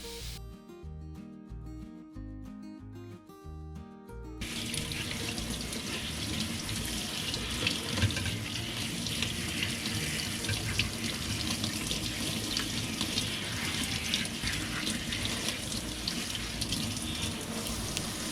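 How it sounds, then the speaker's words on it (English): Tap water runs steadily into a sink as fresh organic garden herbs are rinsed, a continuous close splashing rush that starts after a few seconds of background music and carries on alone. "See, this is why I wash my veggies and herbs, even though the garden is organic."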